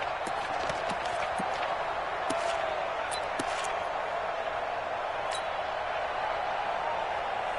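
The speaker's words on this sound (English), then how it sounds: "Listen to this crowd now." A football stadium crowd roars in a steady, dense wash of cheering and noise during a two-point conversion attempt, with sharp claps and bangs poking through the din.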